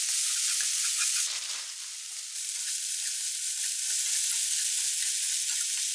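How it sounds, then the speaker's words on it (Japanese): Frozen bell pepper is stir-fried in a hot pan with a bright, constant sizzle that briefly dips and swells as the pieces are stirred, close and with no talk. "冷凍パプリカも炒めて"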